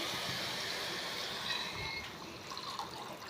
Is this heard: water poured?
yes